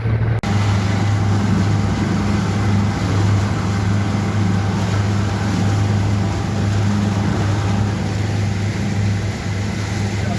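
A boat engine drones steadily and loudly close by, a constant low hum that never changes pace, off the coast near Kekova and Demre, Turkey.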